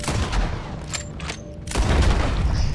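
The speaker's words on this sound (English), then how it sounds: "Oh no. It's a Gatling gun." A Gatling gun opens up during a bank robbery in Red Dead Redemption 2, a dense, continuous roar of rapid booming fire. It eases briefly in the middle, then surges back louder and heavier.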